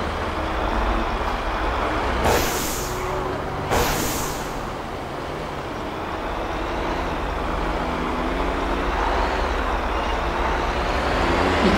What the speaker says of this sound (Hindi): इतनी बड़ी बस को चलाना दोस्तों मामूली खेल नहीं है।